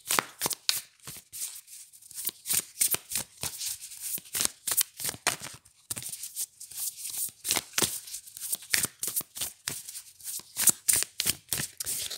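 Archangel tarot cards are shuffled by hand in a steady run of crisp riffling and sliding bursts, close and fairly loud, with no talking.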